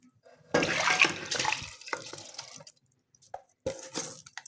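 Water is poured into a cooking pot of rice and softened tomato masala for tomato pulao, with two splashing pours separated by a brief pause and small clinks, close and moderately loud.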